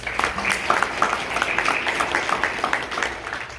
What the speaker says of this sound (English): round of applause for our students.